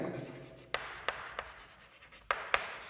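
Chalk or marker strokes on a classroom board during a biology lesson, five short sharp taps and scratches spaced irregularly over a few seconds, close and fairly clear over a quiet room.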